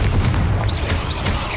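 Confringo blasting spell in Hogwarts Legacy, a heavy booming explosion with a deep rumbling low end and brief whistling streaks, loud and close throughout.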